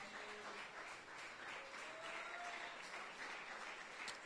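A church congregation applauding during French-language preaching: steady, dense clapping from many hands fills the space throughout, fairly distant and even, with faint voices mixed underneath.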